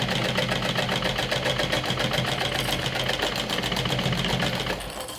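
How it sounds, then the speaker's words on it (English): A sewing machine runs steadily for about five seconds, stitching back over the first stitch of a fist pouch, its fast even chatter loud and close before it eases off at the very end. "I'm stitching over the first stitch"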